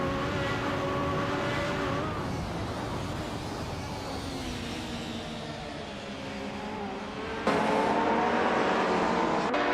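Racing cars in a racing video game, including a 1999 Peugeot 306 Maxi and a 1996 Opel Calibra DTM, drone and whine continuously with shifting engine pitch, a loud close engine cutting in near the end.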